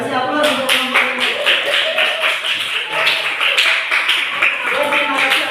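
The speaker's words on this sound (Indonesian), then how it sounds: "Kasih aplaus untuk kelompok ini." An audience in a classroom applauds a group after its presentation, a dense burst of many hands clapping that keeps going steadily, with voices mixed in.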